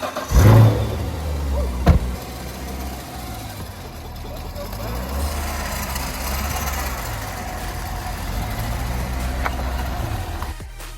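A salvage Corvette engine cranks and fires with a loud burst, blips once in a sharp rev, then settles into a steady, rumbling idle that carries on to the end of the clip.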